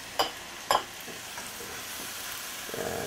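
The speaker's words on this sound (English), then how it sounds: "And pour the chow fun in." Chow fun noodles being stir-fried with barbecue pork in a frying pan, two sharp scrapes of the spatula early on over a quiet, steady sizzle.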